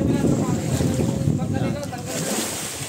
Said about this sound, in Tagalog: Malakas kasi ang amihan mga viewers.